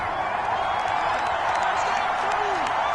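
Steady wash of stadium crowd applause and cheering in a football video game's Colts versus Cowboys exhibition, a continuous distant roar with faint whoops, while a commentator talks over it.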